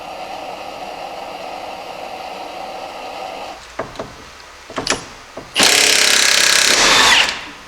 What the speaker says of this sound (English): and then we're going to try and impact this off